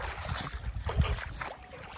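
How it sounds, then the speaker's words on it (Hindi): Clear, shallow Narmada river water running over pebbles, a soft steady wash and trickle close by with low rumbling surges as someone wades through it. "कितना स्वच्छ पानी बह रहा है।"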